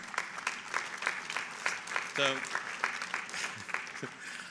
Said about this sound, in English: I like partial clapping.